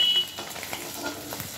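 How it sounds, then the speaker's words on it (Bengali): Bata fish frying in oil on a pan gives a faint, steady sizzle with light crackles throughout, with no voices. "দেখুন মাছ ভাজাটা হয়ে গেছে"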